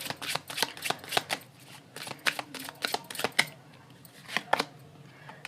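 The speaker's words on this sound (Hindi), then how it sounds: "ओके, मैं कुछ और भी कार्ड्स ले रही हूँ" Tarot cards are shuffled and handled in a rapid series of crisp riffling flicks and snaps, close and fairly loud, with brief pauses between bursts and no talk.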